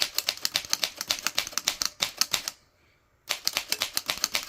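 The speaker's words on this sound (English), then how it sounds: "I'm just going to go through the alphabet real fast." Rapid, evenly spaced keystrokes clatter from a war-era Remington Deluxe Remette portable typewriter, close and crisp, with a brief pause midway before the strikes resume.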